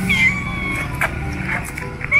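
A pregnant cat meows several times close by outdoors during a bicycle outing, with short voiced calls over a steady low background rumble and occasional speech nearby.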